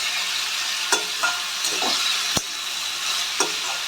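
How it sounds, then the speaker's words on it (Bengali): Salted potatoes fry in oil in a pan over a medium gas flame with a steady, dense sizzle, broken by a few light clinks and scrapes as they are stirred. Nearby and continuous, with no voices. "আলুগুলো আমি ভেজে নেব।"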